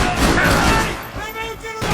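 Gunfire from the video game Max Payne 3, a dense, loud burst of shots and booming impacts packed together across a couple of seconds, mixed with game noise.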